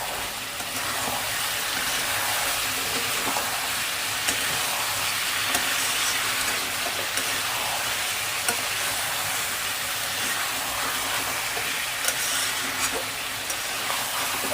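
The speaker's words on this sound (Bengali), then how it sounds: "রেড চিলি পাউডার এক চামচ এবার এটা দিয়ে ভালো মতো কষাবো তেল ছাড়া পর্যন্ত" Chicken curry masala with a spoonful of red chili powder frying in oil, sizzling steadily with occasional stirring scrapes, a continuous close crackle that stays alone with no voices.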